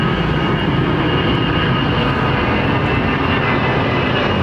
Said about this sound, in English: Good looking jet, man.